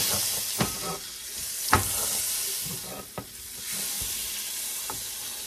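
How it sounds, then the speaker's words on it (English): Butter and oil sizzle steadily in a pan over high heat, a continuous bright frying hiss with a few sharp pops and crackles spread across it, close and fairly loud with no voices. "I'm also going to add a little bit of butter to this pan just because butter is yummy"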